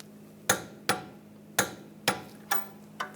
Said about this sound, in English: we want to torque that to 48 foot-pounds